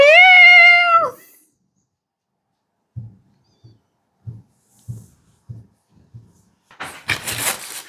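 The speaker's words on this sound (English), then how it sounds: "What is it, little kitty? Meow." A single loud, drawn-out cat meow close by, followed by silence and a few soft thumps, then a burst of rustling noise at the end.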